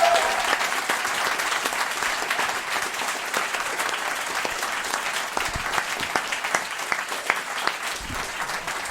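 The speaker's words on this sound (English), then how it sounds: "Give yourselves a massive round of applause." A packed crowd at a live comedy podcast recording at the Hen and Chicken claps in dense, sustained applause, close and loud, with scattered individual claps standing out throughout.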